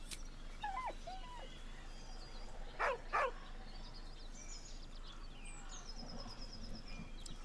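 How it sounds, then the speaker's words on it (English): Scratch, a dog in the video game Baldur's Gate 3, lets out thin, high whines followed by two short yelping bursts, set over a low ambient game backdrop. "With a deep, heartbroken whine, the dog bows his head."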